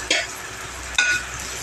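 Rice being dry-roasted and stirred in a pan for pineapple sweet rice, with two short scraping strokes over a faint steady background and no talk.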